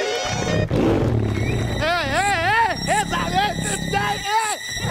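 A tiger roar sound effect in a Marathi stage comedy sketch set in a jungle: a loud, wavering growl with rising and falling tone, repeated in several bursts over background noise.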